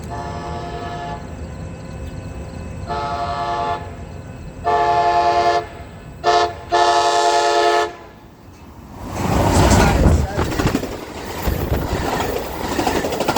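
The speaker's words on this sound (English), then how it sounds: "here's the final train of the vacation, Amtrak 591" Amtrak 591 passes at Encinitas, its horn sounding in several loud sustained blasts with short gaps, followed by the roar and clatter of the train rushing by close at hand.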